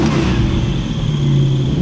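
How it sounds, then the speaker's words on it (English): A Fast X stunt car pulled out of storage roars loudly at close range as it revs hard during an indoor burnout, a continuous heavy engine drone with no talk over it. "I heard they got one of the stunt cars out of storage and they're gonna do a little burnout for"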